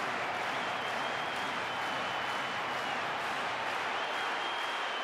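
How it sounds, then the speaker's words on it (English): England fans applaud behind the goal in a football stadium after a Sweden versus England goal, a steady distant wash of clapping from a large crowd, even and unbroken throughout. "England fans moved to applaud behind the goal"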